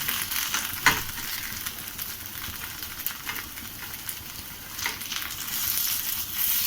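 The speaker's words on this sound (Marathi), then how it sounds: "आता आपण याची दुसरी बाजू सुद्धा अशी छान अशी खरपूस भाजून घेऊया" Potato and poha cutlet frying in a pan as its second side browns: a continuous close sizzle with a few light clicks and taps, no talking.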